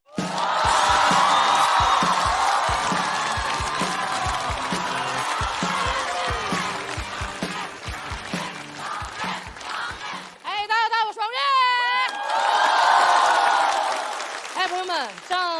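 A stand-up comedy audience breaks into loud applause and whoops that swell at the start, fade under a speaking voice, then return in a second burst of clapping and cheering.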